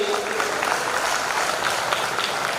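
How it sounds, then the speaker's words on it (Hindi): Hall audience at a radio listeners' conference in Buldhana claps vigorously, a dense, even patter of many hands sustained throughout without a break. "तो उनके लिए जोरदार एक बार ताली बजनी चाहिए"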